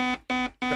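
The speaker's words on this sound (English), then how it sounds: "That's the alarm. The actual alarm." Three loud, identical electronic alarm buzzer blasts with a steady, strongly harmonic tone, each lasting about a quarter second and separated by short gaps, sounding alone with no voices.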